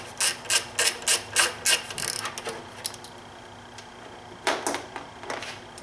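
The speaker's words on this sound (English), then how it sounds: "Next I'm going to remove the vanity cover bolts. It's a 5mm Allen" A 5mm Allen ratchet backs out valve cover bolts on a BMW six-cylinder engine, a quick run of rhythmic ratchet clicks followed by a few slower clicks and a burst near the end, close and clear.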